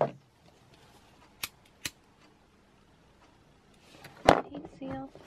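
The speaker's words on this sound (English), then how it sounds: "go ahead and cut my thread and my ribbon" Scissors snip through thread and then satin ribbon while making a rainbow ribbon-trim tutu, giving a few sharp, close cuts spread out over a quiet room, with a longer rustling cut near the end.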